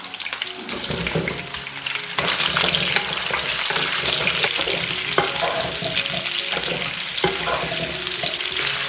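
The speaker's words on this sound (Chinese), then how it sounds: "然后把蒜放进来翻炒" Garlic stir-fried in oil rendered from pork belly in a wok, a loud continuous close sizzle and hiss broken by spatula scrapes and clanks against the pan, no talking.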